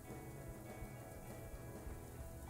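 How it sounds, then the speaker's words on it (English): Steady falling rain makes a faint, even hiss throughout, soft and distant with no other sounds standing out. "Was it because of the falling rain?"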